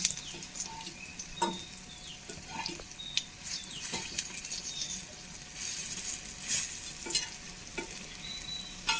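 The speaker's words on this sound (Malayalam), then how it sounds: "വെന്ത് വരട്ടെ നമ്മുടെ പലഹാരം ഒന്ന് മറച്ചിട്ട് കൊടുക്കാം നമുക്ക്" Kuzhi minni, a festival snack, sizzles and fries in a pan, with intermittent stirring and utensil clinks as pieces are flipped; steady close crackle throughout, no talking.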